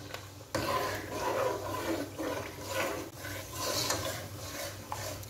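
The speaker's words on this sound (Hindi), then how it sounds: "अब मैं इसमें पानी शामिल कर रही हूँ।" Water is poured into a pan of kofta curry masala, giving a continuous rough splashing and sizzling texture that swells and fades in uneven bursts, close and fairly quiet.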